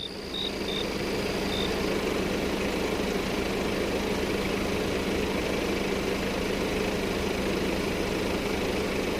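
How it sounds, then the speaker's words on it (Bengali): A red Ambassador car's engine runs as a constant, steady drone from a distance, broad and unchanging throughout with no voices. "দূর থেকে একটা ইঞ্জিনের শব্দ পাওয়া গেল।"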